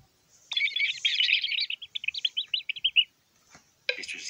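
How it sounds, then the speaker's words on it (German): Hungry chicks being fed in a Peppa Pig video game give bright, high electronic chirping, a dense run of quick tweets that thins into separate peeps, then a short burst of chirps after a pause. "Jetzt kannst du die hungrigen Küken füttern."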